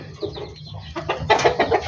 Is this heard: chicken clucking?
yes